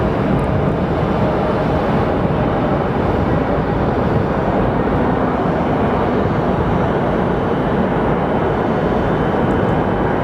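Airplane landing at Phoenix Sky Harbor Airport, a loud continuous broadband jet roar that holds steady and fills the scene without letting up.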